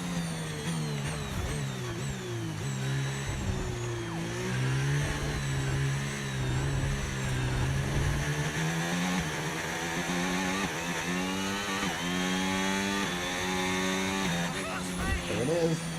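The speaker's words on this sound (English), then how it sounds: "I love the sound of those Formula 1 cars on the other side of the hill." Formula 1 cars in a video game race, their engines whining and rising and falling in pitch beyond a hill, a steady loud layered drone with shifting harmonics running under and around commentary throughout.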